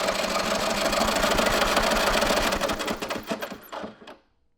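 The engine of a Honda three-wheeler is cranked over with the spark plug removed, giving a fast, even mechanical chatter that runs steadily, then slows and stutters before stopping.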